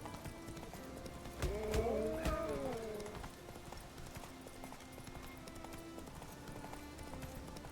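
Horse hooves clip-clop at a steady riding pace in The Witcher 3 on Skellige, with a brief whinny-like tonal cry near the start, all over a constant low game ambience.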